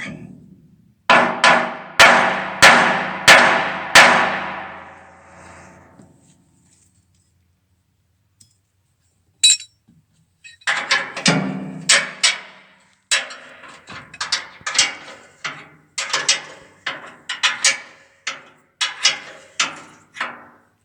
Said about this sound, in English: it's a good idea to use that big old hammer and wake them up